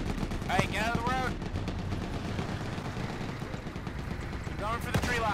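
Gunfire in ArmA 3 pops in scattered shots and short bursts, fairly distant, over a constant noisy background, with voices speaking over it.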